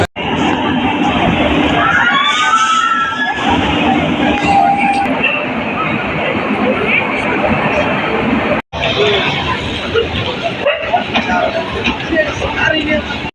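Interior rumble of the moving Padatik Express passenger train in a general-class coach at night, a steady loud roar with rattling throughout and a brief cut near the end, with passenger voices mixed in.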